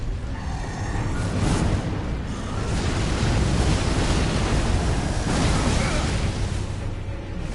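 A waterfall attack in the video game Elden Ring crashes down as a loud, continuous rushing-water roar that swells twice, steady and close with no speech.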